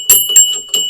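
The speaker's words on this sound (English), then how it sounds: "Let's give you a bell ring." Several quick bright bell chimes used as a sound effect ring in a rapid series of four short metallic strikes, each with a ringing high overtone, loud and close with no voice.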